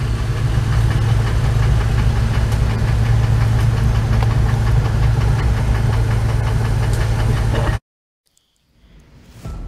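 A Jeep Gladiator Rubicon diesel engine runs on off-road trails at Windrock Park with a loud, close, knocking clatter that holds steady for several seconds before cutting off abruptly, leaving only faint background sound.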